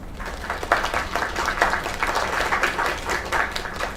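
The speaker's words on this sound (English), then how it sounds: "Another round of applause!" Applause for a singer's performance in a video game, a steady crowd of clapping at moderate distance with a few louder bursts, continuing for several seconds without a break.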